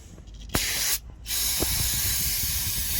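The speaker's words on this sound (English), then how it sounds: "I'll spray it with some brake clean." Bursts of aerosol brake cleaner spray hiss loudly up close, a short blast, a brief pause, then a long continuous spray.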